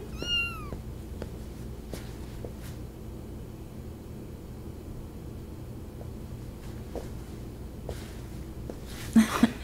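A cat gives a short high meow at the start, then a quiet indoor scene with faint scattered clicks and knocks, ending with a brief louder burst of sound.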